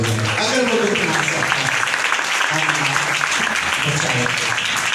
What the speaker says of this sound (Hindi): आइए यीशु मसीह के दुखों के लिए जोरदार ताली बजाएं।